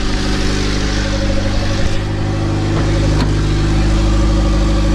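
A turbocharged Honda Civic EG9 with an LSVTEC engine idles steadily at about 1100 rpm, a loud, close, even drone with a constant low rumble and no talking.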